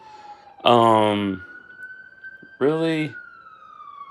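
A wailing siren with a steady high tone between two loud blasts of a horn-like yelp, fairly close, with a brief voice speaking.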